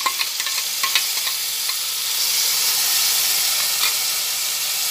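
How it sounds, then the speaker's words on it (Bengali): Papad curry is stirred in a frying pan, a few quick scraping strokes over a loud hissing sizzle that swells into steady, steamy frying noise. "ভালোভাবে নাড়াচাড়া করে নিচ্ছি।"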